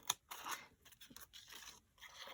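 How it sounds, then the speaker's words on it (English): Scissors snip and rustle through a book page along drawn lines, quiet close-up cuts in a few short irregular bursts. "then I just go with my scissors and just"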